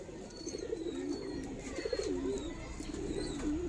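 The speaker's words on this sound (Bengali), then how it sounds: "বাগগোছা পায়রা, এটা নিচে খেলা।" Baggocha pigeons, a ground-playing breed offered for sale, coo steadily in a low rolling murmur close by, with faint chirps and background noise and no talk.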